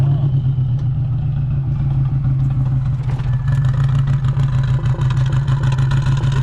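Subaru WRX with a fender exit exhaust and a manual swap idles loudly and close by, a heavy low drone with a steady throb and a light clatter that builds slightly about halfway through.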